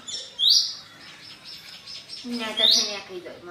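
A sparrow gives two sharp, high chirps about two seconds apart, close and bright, over quiet background noise and a faint voice.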